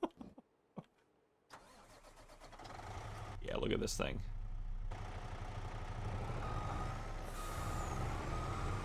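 In Farming Simulator 25, a truck engine cranks and starts, then settles into a loud running rumble, with a sharp air-brake hiss near the end. Someone talks briefly at the start.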